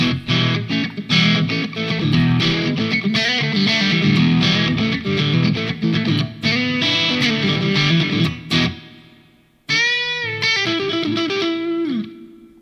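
Distorted, effects-heavy electric guitar playing through a Donner Arena 2000 plate reverb effect, a brief pause, then another phrase ringing out with lingering tail.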